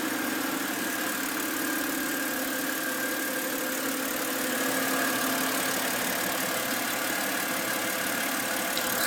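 A BMW E93 engine idles steadily under the hood, a continuous moderate hum with a faint higher whine running through it, heard alone without voices.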